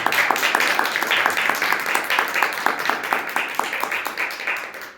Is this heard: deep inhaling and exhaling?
no